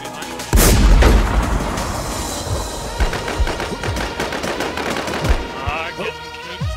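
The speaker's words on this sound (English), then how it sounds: "another blazer shooting at me now" Enemy gunfire in a video game firefight: a loud burst of artillery-like booms followed by rapid, repeated gunshots and cracks continuing close by throughout.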